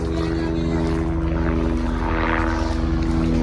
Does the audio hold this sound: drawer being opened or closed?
no